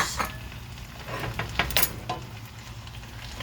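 Red onion and tomatoes frying in a pan for saag paneer, giving a soft, steady sizzle broken by a few sharp clinks and scrapes as the pan is stirred.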